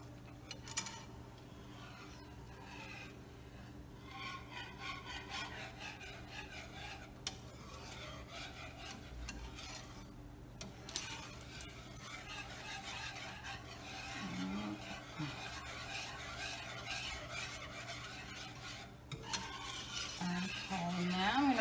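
Whisk or spoon stirring milk into a roux for French béchamel sauce in a pan, a continuous soft scraping and swishing with faint sizzle, quiet and close, no voices.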